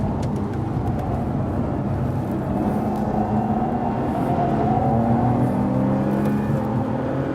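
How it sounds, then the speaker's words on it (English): A Bentley Continental Supersports drives fast on the Nurburgring, its engine note droning steadily from inside the car with rising and falling pitch as it pulls through the circuit, loud and continuous without talk. "I'm driving the most extreme Bentley"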